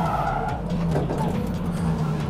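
A drift car at a national drifting championship slides along the wall at full throttle, giving a loud, sustained engine roar with a droning tone and tyre noise close by.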